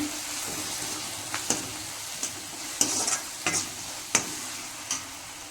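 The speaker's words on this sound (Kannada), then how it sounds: "ಈಗ ನಾನೊಂದು ಅರ್ಧ ಸ್ಪೂನಷ್ಟು ಜೀರಿಗೆ ಪುಡಿ ಹಾಕ್ತೀನಿ. ಇದಿಷ್ಟನ್ನು ಚೆನ್ನಾಗಿ ಫ್ರೈ ಮಾಡ್ಕೊಳ್ರಿ." Cumin powder frying in a pan while a spoon stirs it, giving soft scraping strokes and scattered sharp clicks over a low, steady sizzle, with no voices.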